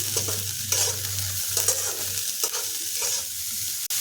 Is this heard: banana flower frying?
yes